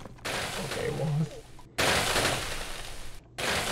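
Cannons fire in the PC game Demolition 3D in loud, crackling volleys: three bursts separated by brief silent gaps.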